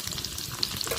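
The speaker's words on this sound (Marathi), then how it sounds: "तेलात दोडका भाजून घ्या." Ridge gourd fries in hot oil, a soft continuous sizzle heard close and alone for a brief moment.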